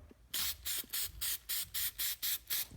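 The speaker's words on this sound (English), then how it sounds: "And we'll just spray a little bit on there." A spray can hissing in about nine short, evenly spaced bursts onto a trimmer being prepared for winter storage, each a crisp puff of spray, close and clear with no talking.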